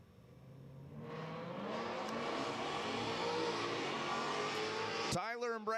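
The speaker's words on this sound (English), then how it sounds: "Tyler and Brandon, a pair of Ford Mustangs, head-to-head down the quarter mile" Two Ford Mustangs race head-to-head down a quarter-mile drag strip, their engines rising to a loud, sustained roar that holds steady before cutting off abruptly at the end.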